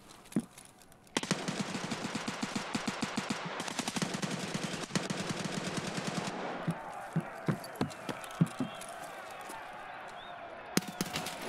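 Rapid bursts of automatic gunfire in a shooter video game arena match, a dense loud stream of shots that breaks into scattered single shots and short volleys, with players talking over it.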